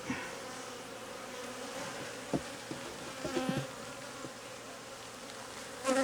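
Aggressive honeybees swarm around a beehive, a dense continuous buzzing up close with individual bees zipping past the microphone now and then.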